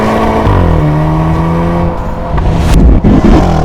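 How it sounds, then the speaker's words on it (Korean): A Hyundai N car accelerates hard in Sport or N mode with the throttle floored, its loud exhaust droning upward and then cracking with sharp bangs as it upshifts. "이것이 기어단을 올릴 때 나는 뱅 사운드입니다."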